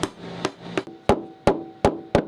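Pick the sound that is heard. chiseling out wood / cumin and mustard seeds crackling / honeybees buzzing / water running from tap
chiseling out wood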